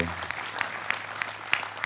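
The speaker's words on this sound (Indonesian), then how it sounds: "Sekali lagi tepuk tangan untuk beliau." Scattered, fairly faint applause from a crowd at a religious gathering, with a few distinct individual claps popping out over a low background hum.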